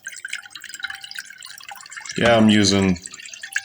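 Cold water runs from a water cooler into a big bowl, a soft, steady splashing trickle that continues under a voice as he briefly speaks.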